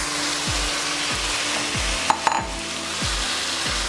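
Chicken sizzles steadily in a pan for drumstick chicken curry while a spoon stirs it in regular scraping strokes, with a couple of sharp clinks from the utensil on the pan.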